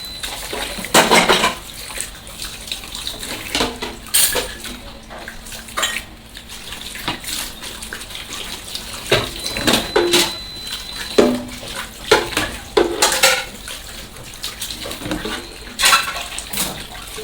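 Dishes, pots and pans washed in a kitchen sink under running tap water, with steady water flow and repeated clatters and clinks of metal and cutlery throughout, no talking.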